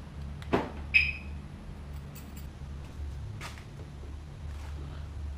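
An Audi A7 locks from its key fob, giving a sharp mechanical clack and then a brief beep-like chirp close by, followed by faint clicks from the fuel door actuator over a low idle-like hum.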